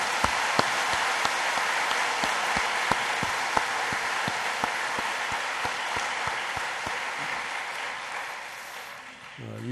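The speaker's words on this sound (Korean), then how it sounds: "우리에게 2016년 새해를 주신 하나님께 영광의 박수를 올려드리겠습니다." A congregation claps steadily during a New Year's Eve worship service at Cheonan Holiness Church in Korea, giving a dense, sustained wash of hand claps with sharper individual claps standing out, which fades slightly near the end.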